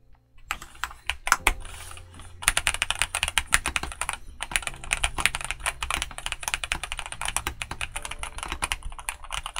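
Rapid typing on a Skyloong GK87 Pro tenkeyless mechanical keyboard with hot-swap knobs and an OLED screen, dense close-up clacking keystrokes in quick irregular bursts after a short pause, alone without talking.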